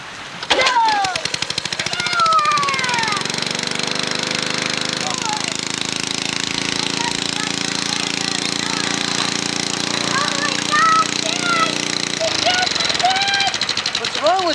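An old lawn mower engine starts and runs loudly and steadily after being choked, a harsh continuous drone with shifting pitch and a voice speaking over it.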